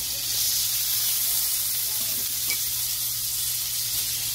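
Green beans with butter and garlic sizzle steadily on a grill beside a slow-cooking tomahawk ribeye steak, a continuous close frying hiss with faint crackles.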